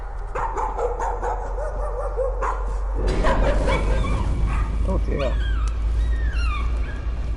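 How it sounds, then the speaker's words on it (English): A dog in the video game Layers of Fear 2 gives high yips, barks and whimpers over a low droning ambience. A voice briefly speaks partway through. "It's my long lost dog."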